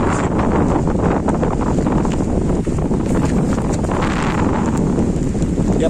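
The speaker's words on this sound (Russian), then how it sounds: "Не думал, что такой-то ветер будет." Gusty wind roars continuously across a microphone on the shore of Lake Turgoyak in July, loud and unbroken for the whole stretch, with no voices.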